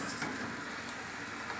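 Pointed gourd (potol) frying in a pan with a little turmeric and sugar, a steady close sizzle with faint stirring over it, brief and continuous.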